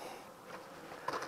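A soft, steady buzz of honeybees in an opened hive during an early spring inspection drones throughout, fairly faint and close, with a brief slightly louder rustle near the end.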